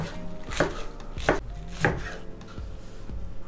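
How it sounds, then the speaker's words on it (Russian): A knife chops through Napa cabbage leaves on a board, three crisp evenly spaced cuts followed by a couple of softer taps, close and clear with no talking. "А листья пекинской капусты я порежу."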